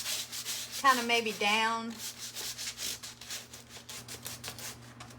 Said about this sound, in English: I use my sandpaper over the places where I put my salt wash.